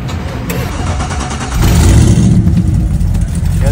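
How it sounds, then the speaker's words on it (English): A 1986 Cadillac swapped with a 6-liter LS2 V8 making 450 horsepower idles with a deep rumble, then revs up to a louder, sustained roar at close range, with no speech. "now it's here back and better with a 6-liter LS2 making 450 horsepower"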